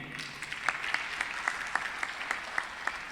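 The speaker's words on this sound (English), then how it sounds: "Big applause for them again." Applause from a university conference audience, moderate scattered clapping with distinct individual claps, fairly soft and steady throughout.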